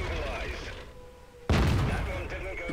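A tank gun firing in a World of Tanks style video game, an AT-15 tank destroyer, heard as one sudden loud close blast with a booming rumble that lingers over steady engine and battle noise.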